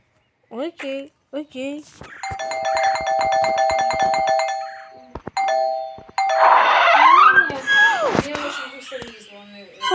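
A doorbell-style bell chimes in the video game Do Not Disturb, ringing loud and sustained from about two seconds in, with short game sounds around it and more noise near the end.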